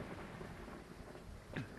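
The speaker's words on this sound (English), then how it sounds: "Yep, just heavy rain." Heavy rain pours steadily in the Phasmophobia ghost-hunting game, a dense, continuous hiss with a brief louder crack near the end that may be distant thunder.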